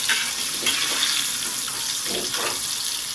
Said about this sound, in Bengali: সব পটলগুলোকে কড়াই থেকে আমি তেলটা ভালো করে ছেঁকে তুলে নিচ্ছি।